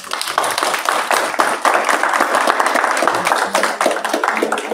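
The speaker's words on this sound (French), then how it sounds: "Je pense qu'on peut applaudir tout ce moment." A group claps steadily together in a dense, even burst of applause lasting several seconds during a stay organized to fight street brawls, with faint voices underneath.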